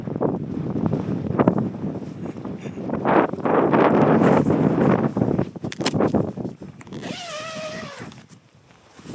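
Gusty winter storm wind on Blencathra buffets the microphone in rough, roaring surges, broken by a brief whining tone near the end.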